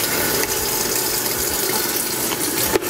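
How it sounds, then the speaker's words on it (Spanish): Water pours steadily into a Temu portable collapsible mini washing machine, a continuous broadband splashing rush close by that runs alone with no talking. "vamos a echarle agua primero acá"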